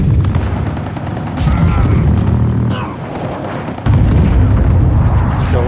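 Cluster strike explosions in a Modern Warfare infected match: dense rumbling blasts and booms layered with scattered gunfire, loud and continuous with a brief lull and then a renewed heavy burst, while a player talks over it.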